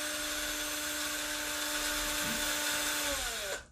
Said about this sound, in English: the first thing to do is to drill these out